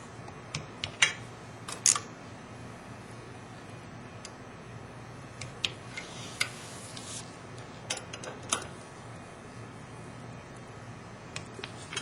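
Sharp clicks from a torque wrench tightening the bolts of an OPTISEP 800 holder at 45 inch-pounds, coming in a loose irregular series of brief ticks over a faint steady background hum, with no talking.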